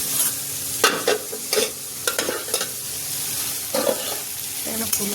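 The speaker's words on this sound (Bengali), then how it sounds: "এখানে ফুলকপি ভাজা হয়ে গেছে" Cauliflower frying and being stirred in a pan, a steady sizzle broken by repeated scraping stir strokes, close and fairly loud with no talking.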